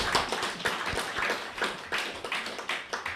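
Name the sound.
audience applause, clapping again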